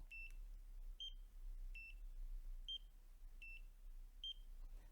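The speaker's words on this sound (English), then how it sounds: "So that's the sound it makes." A handheld laser hair removal device gives short electronic beeps on skin contact in a steady pattern, six chirps spaced under a second apart, each a quick two-tone blip over quiet hum.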